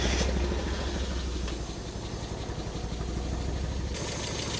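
Mk1 car with fire damage idling on only two cylinders, cylinders 1 and 4 misfiring, after a coil pack change; a rough, uneven low engine rumble with steady pulsing runs throughout, close and moderately loud, with no talking.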